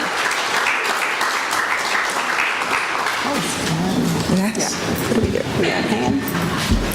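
A conference audience on international relations careers applauds in a steady, dense wash of clapping from start to finish, with a little voice activity mixed in.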